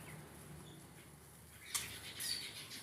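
Weaver birds flutter their wings faintly, and a few soft chirps come in near the end over quiet background noise.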